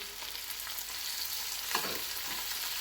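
Chopped tomato and crushed masala frying in a pan: a dense, close hiss of sizzling with a brief wet sputter in the middle and no voices.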